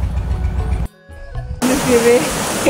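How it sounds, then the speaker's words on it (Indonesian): Sumbelerang waterfall on Mount Papandayan in Garut, a steady broadband roar of falling water, cut by a short near-silent break before the rush returns louder with a voice speaking over it. "Air terjun Sumbelerang ini, guys, namanya"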